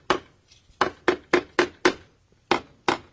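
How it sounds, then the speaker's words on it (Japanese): Hammer blows driving nails, staged as a sound effect in a radio drama: seven sharp, evenly spaced knocks, close and loud, with short gaps and no talking. "今トンカチで釘を打っているんだ"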